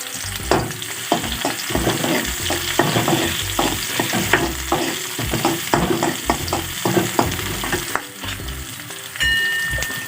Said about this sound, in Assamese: তেলখিনি গৰম হৈছে, পিঁয়াজ দিলোঁ। পিঁয়াজ আৰু জলকীয়াখিনি দিছোঁ।